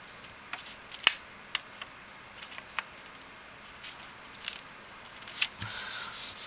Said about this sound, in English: when I use my ink blending tool I don't move the paper around